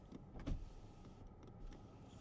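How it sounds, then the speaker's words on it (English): A faint electric whir of power windows moving in a 2024 Acura ZDX A-Spec, with a soft thump near the start and quiet cabin hum around it. "I've got all my windows automatic up and down"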